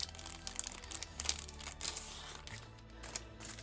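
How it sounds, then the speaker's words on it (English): A priority mail parcel is pulled from a plastic bag, giving close, continuous crinkling and rustling with irregular sharper crackles and no talking. "get it out of the plastic bag"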